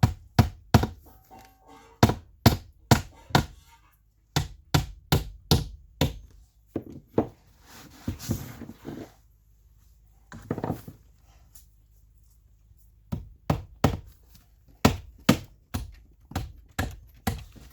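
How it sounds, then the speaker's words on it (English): Hammer blows drive nails into tongue and groove wall boards, coming in quick bursts of four to six sharp knocks separated by short pauses, close and loud with no talking. "And one more nail down here. I'm putting the nails in a bit here"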